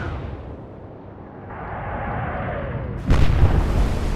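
Warship guns fire in the naval combat game Atlantic Fleet, trained on the cruiser Exeter: a sudden loud, deep boom breaks over a low rumbling drone, then a sustained roar.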